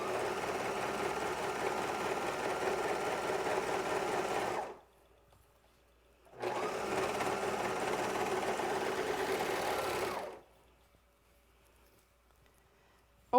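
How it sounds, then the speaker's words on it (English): Sewing machine stitching shorts fabric, running in two steady, loud mechanical whirring bursts of about four seconds each, close by and separated by a short silence, then stopping. "I want to make sure every bit gets sewn in."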